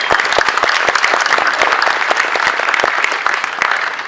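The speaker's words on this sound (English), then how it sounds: "All right, give him a round of applause." A press conference crowd at CES 2014 applauds steadily, dense clapping filling the whole stretch at a loud, even level.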